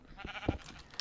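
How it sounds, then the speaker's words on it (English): Sheep in the Minecraft video game bleat in short, close, moderately loud calls, with a couple of quick bleats coming in succession over a brief moment and no talk. "Oh, sheep, get out of the way."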